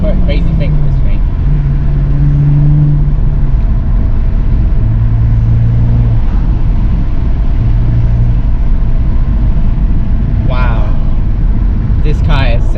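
A BMW M235i with a six-speed manual is driven fast, its engine note shifting in stepped tones that suggest gear changes under a steady road roar. A person talks over it and gives excited exclamations near the end.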